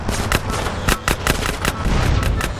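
Rapid gunfire from Big Smoke shooting in Grand Theft Auto: San Andreas, a loud string of sharp, closely spaced shots in uneven bursts, with no talk over it.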